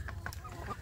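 Free-range village chickens, a rooster and hens kept in an outdoor run, give a brief burst of soft clucks and calls at close range.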